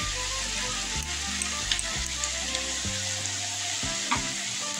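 Masala sautéing in a pan for a tangra fish curry with tomato, a steady close sizzle with stirring scrapes throughout and a low humming tone underneath, no voices.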